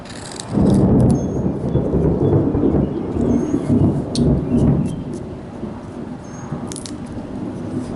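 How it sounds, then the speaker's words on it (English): Heavy outdoor rain pours steadily while low thunder rolls and rumbles through the first half, loud and continuous with no voices. "We've been having a lot of rain down here."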